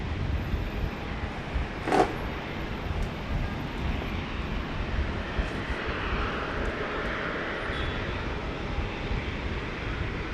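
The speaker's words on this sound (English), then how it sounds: "So those are like little private jets, I assume." Small private jets at Brisbane airport, a steady distant engine roar with a brief sharper noise near the start, heard outdoors without talk.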